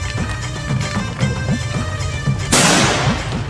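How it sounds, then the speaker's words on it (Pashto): A gunshot goes off in a comic Pashto drama scene, a single sharp loud blast after a stretch of rhythmic background thumps and tones, followed by a broad decaying burst of noise. "یو ډز وکړه"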